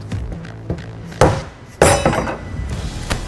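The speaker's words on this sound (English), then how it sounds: "use a pry bar and a rubber mallet, and we're just going to hammer this locking ring off." A rubber mallet strikes a pry bar to knock the locking ring off a 70-gallon fuel tank for a 2011-16 Ford Powerstroke 6.7L crew cab; a few sharp metallic blows land close and loud, separated by quieter tapping and clinks.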